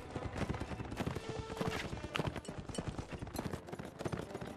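Dense, rapid clip-clop of horse hooves in the video game Mount & Blade Warband, a busy rhythmic galloping patter that fills the whole stretch at steady loudness.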